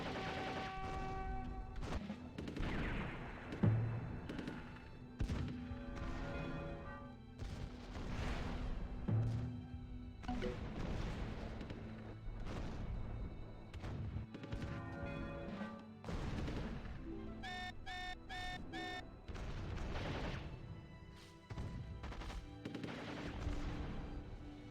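Missile strikes and gunfire in the real-time strategy game Rise of Nations, a dense, continuous stretch of overlapping booms and rapid shots with game music tones running underneath.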